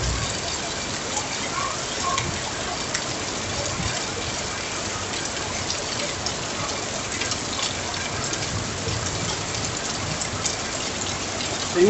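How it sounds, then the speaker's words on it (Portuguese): Heavy rain pours down steadily during a storm flooding streets in Linhares, Espírito Santo, Brazil, a dense continuous hiss of drops hitting surfaces, with faint voices underneath. "Tem uma hora que tá chovendo?"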